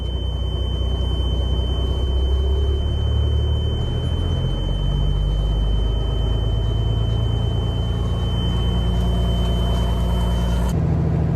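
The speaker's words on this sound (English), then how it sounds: "Starts right up. And kind of pull the idle up a little." A Peterbilt truck's diesel engine idles with the idle raised slightly, giving a steady, loud, close rumble with a constant low drone and a faint high whine throughout, alone without talk.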